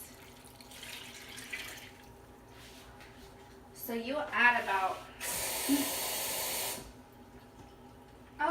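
Water gushes from a kitchen faucet fitted with a Brita filter into a container for crockpot pinto beans, a steady hiss lasting about a second and a half after a brief spoken line.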